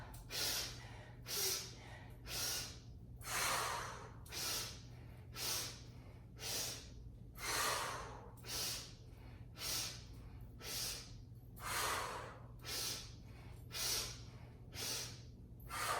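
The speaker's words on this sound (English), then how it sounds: "3 big inhales. Up, wide, high, and straight down. Exhale." Deep yoga breaths during an all-levels flow class, a slow, regular series of loud inhales and exhales, roughly one every second or two, close and breathy with no talking over them.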